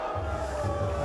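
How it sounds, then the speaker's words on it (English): A boxing crowd in an arena lets out a sustained, droning boo, a dense wash of many voices heard together for a brief moment. "Why are we booing?"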